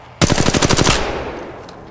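Rapid automatic gunfire in the Apex Legends video game: a loud burst of about ten evenly spaced shots lasting under a second, then a fading tail with no voices.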